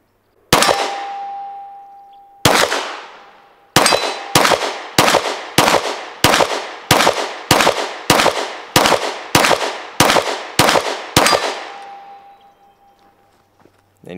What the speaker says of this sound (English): All right, first shots, here we go.